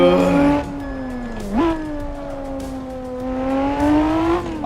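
Lotus V6 engine in the racing game Assetto Corsa, a loud, steady drone that dips on a gear change near the start, then climbs again and holds a smooth, rising pitch throughout, with no talk.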